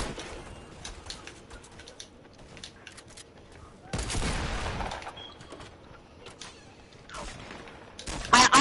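Fortnite video game gunfire, a loud burst of rapid shots in the middle and another near the end over game ambience, with talking around it.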